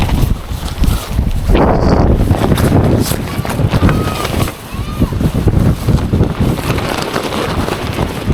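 Strong wind buffeting a farm campsite during a tent setup, roaring loudly and unevenly against the microphone in gusts, with rustling and people talking throughout.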